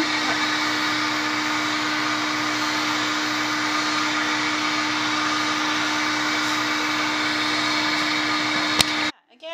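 A hair dryer blows steadily on a Maltese dog's face after cleaning, a loud, even whooshing drone with a constant hum that runs for most of the stretch before switching off abruptly near the end.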